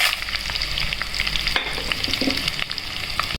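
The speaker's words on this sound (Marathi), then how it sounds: "सर्व मिश्रण व्यवस्थित हलवून घ्यायचं व्यवस्थित फ्राय करून घ्यायचं" Carrots and red chili fry together in ghee, giving a close, continuous sizzle with scattered pops and scraping stir strokes and no talk.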